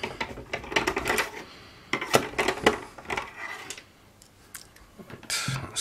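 Screws are worked out of the case of a Bush mini CD hi-fi unit, giving close, irregular metallic clicks and scrapes in short bursts with brief pauses between them.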